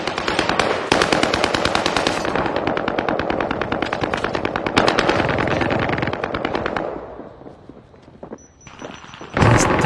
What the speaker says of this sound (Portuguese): só com uma metralhadora pesada e 45 tiros